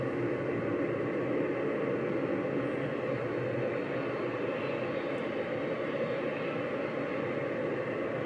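An airliner's engines run at high thrust on approach in the X-Plane flight simulator, a steady, even, broadband roar holding constant throughout with no talking.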